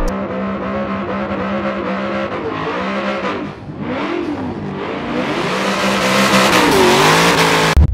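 A Chevrolet Camaro drifts uphill in a racing game, its engine revving hard and climbing through rising, wavering pitches, with loud continuous exhaust tone dipping briefly mid-run before surging to redline.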